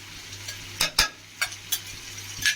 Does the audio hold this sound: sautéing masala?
yes